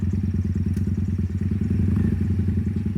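A Honda Steed motorcycle engine throbs steadily and loudly while riding, with a rapid low pulsing rhythm and some faint rattling clatter on top.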